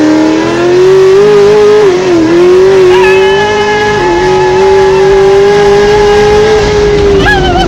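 A cammed Z06 Corvette accelerates hard at full throttle, its engine roaring loud and close with a rising, wavering drone, easing briefly at shifts before climbing again.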